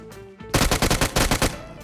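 Rapid automatic gunfire from PUBG Mobile, a burst of about nine loud, evenly spaced shots in quick succession after a brief faint intro.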